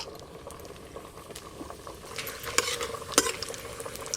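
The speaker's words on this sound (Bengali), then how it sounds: "সর্ষের তেল, এখানে গোটা গরম মশলা আর শুকনো লঙ্কা আছে, দিয়ে দেব।" Whole garam masala and dried red chillies hit hot mustard oil in a pan for khichuri, a quiet, steady bubbling sizzle with light stirring scrapes that grow a little louder toward the end.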